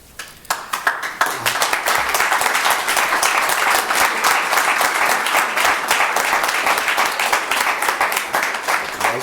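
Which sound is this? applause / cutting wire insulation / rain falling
applause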